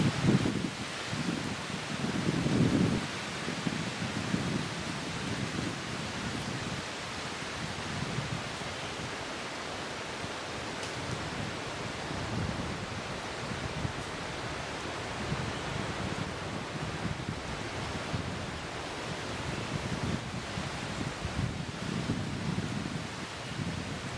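Steady, moderate wind blows outdoors during a spring turkey hunt, a soft continuous rushing hiss like stirred leaves, with a stronger gust near the start and no talking.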